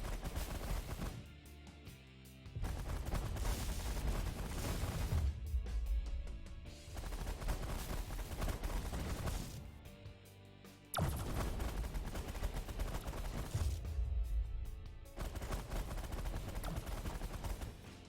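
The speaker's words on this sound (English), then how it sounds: "I'll do some auto fire with the minigun" Sustained bursts of minigun auto fire in the space strategy game The Last Federation, loud and dense, arriving in several long rattling volleys separated by brief lulls, with no talk over them.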